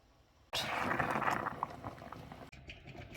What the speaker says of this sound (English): We're back now to a level that is a bit of a rolling boil.